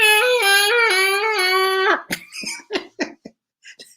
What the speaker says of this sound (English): the sound of air coming out of the balloon is what made me laugh